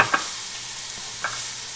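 Onions, green onions and chopped Scotch bonnet pepper sizzle steadily in a pan, a constant hiss with a couple of soft clicks from stirring.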